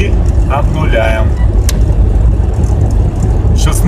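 Mitsubishi Pajero Sport 2016 accelerating hard toward 160 on the autobahn, a steady loud engine drone and road roar filling the cabin, with a voice speaking over it.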